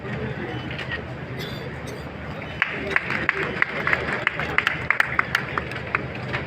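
An audience at a hospital inauguration ceremony claps for arriving guests: scattered, uneven hand claps build up partway through over crowd murmur and a speaking voice.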